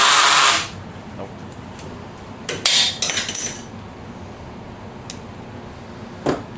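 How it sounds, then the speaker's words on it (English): Makita drill loosening tight oil pan bolts on a 7.3 Powerstroke engine, heard as a brief loud burst at the start followed by a few short metallic clatters and clicks against a quiet shop background. "Well, it ain't an impact, it's a drill."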